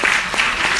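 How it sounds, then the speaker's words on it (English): At a live event at UCLA, an audience breaks into applause, a brief, loud wash of many hands clapping together. "give them a hand clap"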